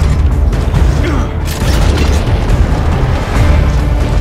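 Dense, dull booms and bursts of exploding wretches in the video game Gears of War: Judgment, stacked over continuous gunfire and battle clatter, loud and close throughout with no clear pauses.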